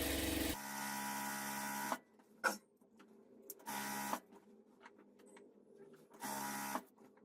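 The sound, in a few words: sewing machine double-stitching a pant seam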